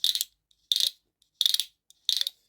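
Four short bursts of whirring, ratcheting clicks from a vintage diecast toy car's sound mechanism rolling on carpet, at a steady pace, each lasting about a quarter second, separated by brief pauses and faint ticks.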